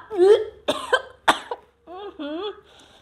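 A series of harsh coughs, some rough and voiced, from a person in a Bangla drama scene, coming in short bursts close to the listener with brief pauses between them.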